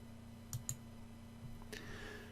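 A few sharp computer mouse clicks, two close together early on and another shortly after, fairly quiet over a steady electrical hum while working in PowerPoint.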